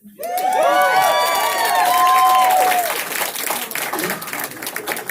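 Convention audience at a geek fan event bursts into loud cheering, whoops and applause, peaking early then fading into scattered clapping and chatter.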